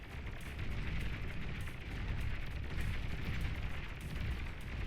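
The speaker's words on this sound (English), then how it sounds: "another construction vehicle gets completely destroyed" A construction vehicle being destroyed in the real-time strategy game Beyond All Reason, heard as a steady, dense roar of explosions and crackling fire with rumbling low end that holds across the whole stretch, no voice over it.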